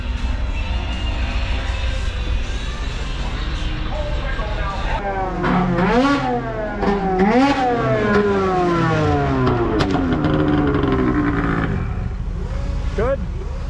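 A snocross racing snowmobile, sitting in a trailer at a bullring track before practice, revs repeatedly in rising and falling sweeps, loud and close, with people talking around it.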